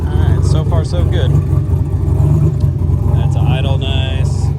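A turbocharged Datsun 280Z idles on a dyno with a steady, deep, loud rumble, and people talk over the engine noise.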